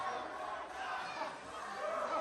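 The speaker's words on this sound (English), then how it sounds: "Excited crowd." Excited capacity crowd at an MCW Winter Blast wrestling show, a dense wash of cheering and shouting voices, fairly distant and steady for a couple of seconds.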